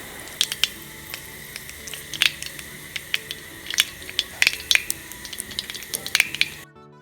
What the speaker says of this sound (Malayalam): കടുക് നന്നായി പൊട്ടട്ടെ.